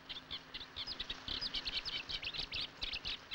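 Cetti's warblers call in a reedbed, with a rapid series of sharp, high chirps repeating steadily and fairly close over a low background hum.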